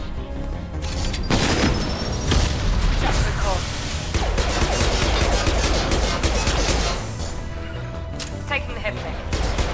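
Pistol gunfire against a heavy mech in the video game Mass Effect 2: rapid, sharp shots and heavy booms come in dense bursts over loud mechanical crashes and rumbling combat, with the clash continuing the whole way through.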